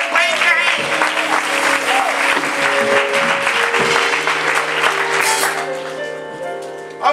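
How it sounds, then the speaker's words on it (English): A congregation at a Mother's Day church service breaks into sustained applause and hand clapping, loud and dense throughout with an organ or sustained tones underneath, tapering toward the end. "Give her a hand clap."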